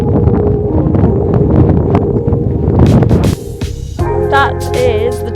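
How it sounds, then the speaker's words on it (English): Strong gusting wind roars across a mountain ridge near Sharp Edge on Blencathra in the Lake District, buffeting the microphone with a loud, continuous rush that briefly drops and surges again. "This is what the wind was like when we were trying to do Sharp Edge."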